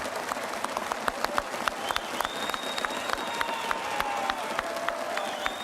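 A crowd at a Rainbow Six Siege presentation applauds steadily, dense clapping holding at a constant level from start to end, with faint voices mixed in.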